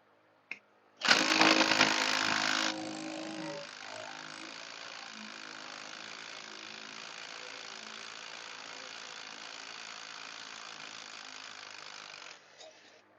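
Power tool or ratchet working a bolt on a 1979 Corvette crate motor, a loud burst of rattling mechanical clatter for about two seconds, then a steady whirring drone that runs on for ten seconds before stopping.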